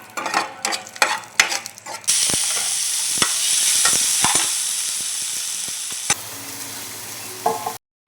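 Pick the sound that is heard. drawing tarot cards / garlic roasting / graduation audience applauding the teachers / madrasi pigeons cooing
garlic roasting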